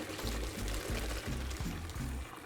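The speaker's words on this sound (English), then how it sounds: "Drain your pasta when it's al dente." Cooked al dente pasta being drained, a steady pour of water gushing into a sink with low, rhythmic gurgling bursts underneath, moderately quiet and close.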